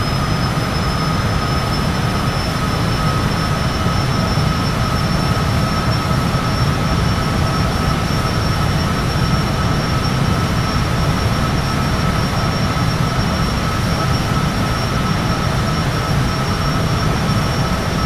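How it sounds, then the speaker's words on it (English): Cessna light aircraft taking off in Microsoft Flight Simulator, a steady loud broadband engine and propeller roar with a faint constant tonal hum, unchanging throughout and without talk. "We're gonna take off."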